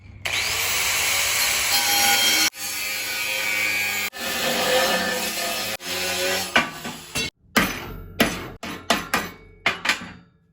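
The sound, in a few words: cutting steel for dash bracket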